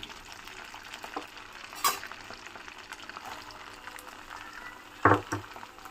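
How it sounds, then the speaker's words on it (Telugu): Capsicum, onion and peas frying in oil in a pan, a soft steady sizzle with occasional scraping stirs and a couple of sharper clinks near the end, close and fairly quiet. "ఇది బాగా ఫ్రై అవ్వాలి."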